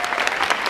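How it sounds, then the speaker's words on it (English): An audience at a hair showcase gives a brief, lively round of applause, close and fairly loud, with dense overlapping claps. "give these girls a round of applause."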